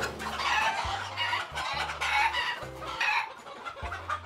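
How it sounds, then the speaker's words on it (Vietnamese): Chickens cluck continuously on a sandy-ground poultry farm in Tay Ninh, with a crowd of birds producing dense, overlapping calls close by and fairly loud, no voices over them. "Có gà xanh nè anh em."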